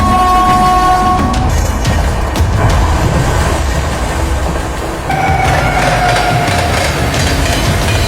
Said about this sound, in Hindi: बीच में ये गुड्स ट्रेन जो है वो आ गई है हमेशा की तरह